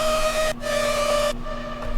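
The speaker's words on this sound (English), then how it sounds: "So this first massive patch is the Sublime lead." Sustained lead synth patch from Native Instruments Massive, the Sublime lead for a melodic dubstep drop, playing bright held notes with rich harmonics, briefly cut by short gaps between phrases and lightly EQ'd, loud and alone.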